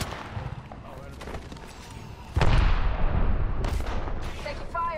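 Gunfire in the online shooter Apex Legends, a dense, loud roar of shots and blasts that swells partway through, with players talking over the barrage.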